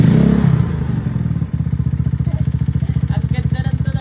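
A Mio Sporty scooter motorcycle with a 59 block engine and its silencer removed idles close by. Its raw exhaust thumps in a fast, even, loud rhythm after a rougher start.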